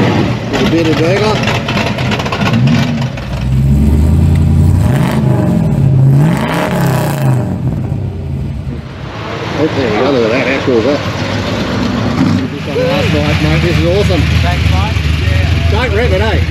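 A Pontiac Trans Am's engine revs hard at an outdoor motor show, several rising and falling blips and sustained roars up close, with a brief easing midway before more revving, and people talking nearby.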